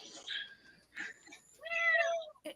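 Stray cats meow in a short series of distinct, fairly close cries, the last one longest and loudest, with quiet gaps between.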